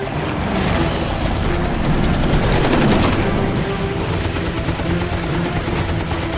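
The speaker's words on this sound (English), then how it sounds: "The Wildcat's 6 .50 caliber guns deliver 200 rounds in a 4-second burst" A burst from a Grumman Wildcat fighter's six .50 caliber machine guns over Guadalcanal, a loud continuous rattling roar of rapid fire with engine drone lasting several seconds.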